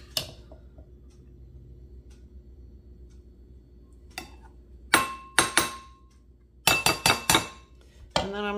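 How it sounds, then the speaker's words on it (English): A spoon scraping and clinking against a bowl while couscous salad is served: a few soft taps early, then sharper clusters of metal-on-ceramic clinks near the end, close up, with no talk. "I'm going to just put a couple of good spoonfuls in my bowl"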